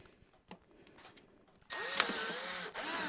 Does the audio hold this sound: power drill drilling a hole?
yes